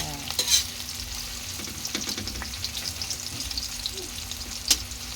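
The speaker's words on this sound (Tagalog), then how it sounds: "igisa na natin ang ating sibuyas, bawang, saka luya" Onion, garlic and ginger sautéing in a pan for Filipino mung bean stew, a continuous close sizzle with repeated scraping and stirring knocks from a utensil, a few sharper clinks, no voices.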